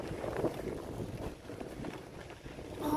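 Cold wind blows through a mountain valley on the Shimla–Narkanda road, a soft continuous rushing with gentle gusts and microphone buffeting, fairly quiet and without voices.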